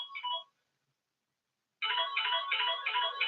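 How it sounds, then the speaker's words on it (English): A phone rings in two electronic bursts, a short ring followed after a pause by a longer one, loud and close with no talk over it. "my phone is ringing, and this never happens"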